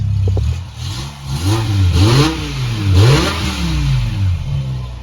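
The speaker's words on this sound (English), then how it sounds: "let me put a little rev on there for you guys" A BMW M5 with a 5.5-litre stroker V10 revs up in repeated blips, the engine note rising and falling several times at close range, loud and steady with no talking.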